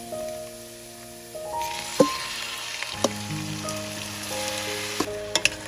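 Marinated chicken sizzles loudly in a hot pan, a steady crackling fry with occasional sharp pops and clinks as it settles, with no talking.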